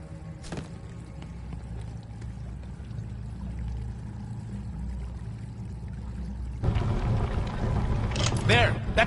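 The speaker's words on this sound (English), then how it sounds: "That's got the water flowing!" In a video game, water begins rushing once a prism lock puzzle is solved: a low steady flow that swells into a louder pouring gush in the last few seconds, with voices speaking over it.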